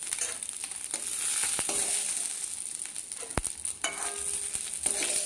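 Fish fry in a small amount of oil in a pan, giving a steady close sizzle with occasional sharp clicks and stirring taps.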